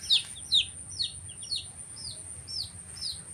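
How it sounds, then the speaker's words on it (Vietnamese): Young ga noi chickens, a Vietnamese fighting breed kept in a pen, peep in a steady run of high chirps, about two per second, fairly close against a quiet backdrop. "Đây là gà nhỏ hơn mình tách riêng."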